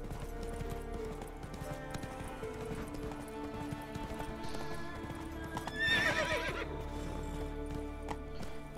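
Video game horse hoofbeats clop steadily over a busy ambient backdrop, with a sharp horse whinny breaking through near the middle, in The Witcher 3.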